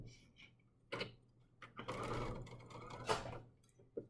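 A sewing machine stitches a quarter-inch seam on quilt fabric, its motor running in short bursts with brief pauses between, a steady low hum underneath, moderately close and fairly quiet, no talking.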